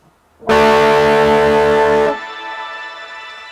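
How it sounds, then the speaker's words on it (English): A sustained electric guitar chord through a Line 6 Helix preset rings out with a bright, chimey reverb, then decays into a shimmering tail after about two seconds. "You can hear that chimey reverb in there."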